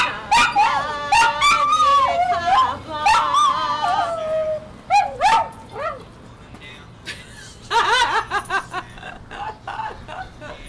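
A pet dog yips, whines and barks in close, excited bursts, high whimpering cries alternating with short barks, with some light human chuckling in the background.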